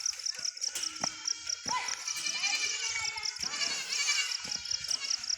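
Goats bleat repeatedly near a temple, several nasal calls overlapping at close range with insects buzzing behind and people talking intermittently.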